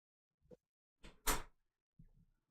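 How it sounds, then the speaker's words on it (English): A house door opens and shuts: a soft knock, then a sharp louder bang of the door closing, followed by a faint rustle, all fairly quiet and close. "I hear the door."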